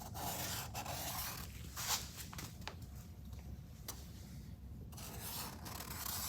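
A red marker squeaks and rubs against metal on the nose of a Buick Regal, making faint, short scratchy strokes close by in a quiet space.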